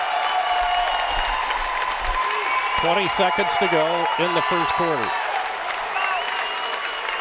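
Basketball fans of a high school boys' team cheering from the stands during the first quarter, a steady loud crowd roar with applause under a close play-by-play commentator's voice.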